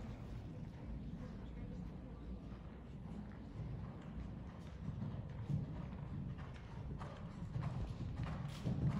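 Horse cantering in a dressage arena during a four-year-old championship qualification, steady rhythmic hoofbeats on footing, moderately loud and continuous, with a voice calling instructions over them.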